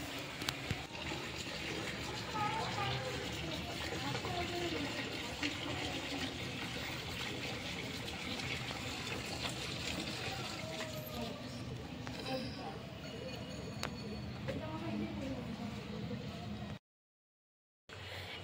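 Water running steadily during a bath, a continuous broadband splashing gush that fills the whole stretch before cutting off abruptly near the end.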